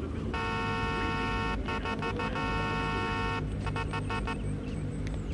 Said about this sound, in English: And here's the horn.